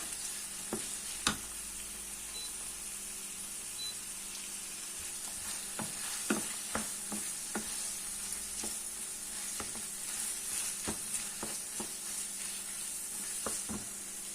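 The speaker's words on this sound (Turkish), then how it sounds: "Salça birazcık kavrulsun diye." Steady frying sizzle of tomato paste in a pan with scattered sharp pops and crackles, close and fairly quiet, no voices.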